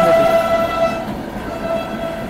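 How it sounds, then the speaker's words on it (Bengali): Freight train hauled by a WAG5 electric locomotive with BCNA covered wagons, a steady loud rumble with a sustained horn-like tone, close by with no talk. "WAG5 লোকোমোটিভ, আর এটা হচ্ছে কভার্ড ওয়াগন বলে, BCNA।"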